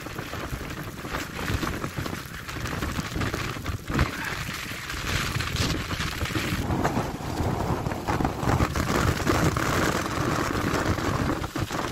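Strong wind roars across the 700-metre summit of Sovkhoznaya mountain near Novorossiysk, buffeting a handheld phone microphone with constant loud rumbling gusts and a hint of rain, with no voices.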